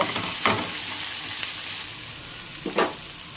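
Cut pumpkin pieces with salt frying in a pan give a steady close sizzle, with a few louder scraping stirs of a spatula over the bubbling oil.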